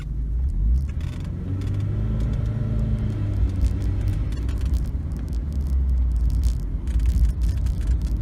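A Porsche engine revs and pulls hard under acceleration, a deep rumbling roar that rises and holds steady, loud and close throughout.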